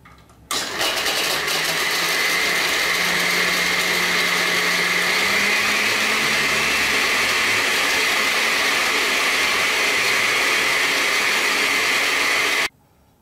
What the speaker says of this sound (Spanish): procedemos a licuar